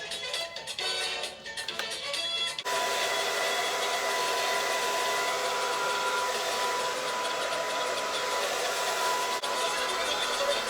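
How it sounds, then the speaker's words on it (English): A hair dryer blows steadily on lace wig gel, a loud continuous whoosh with a faint whine that kicks in after a short quiet start and runs on alone. "I'm just going to blow dry it to make sure that it's tacky"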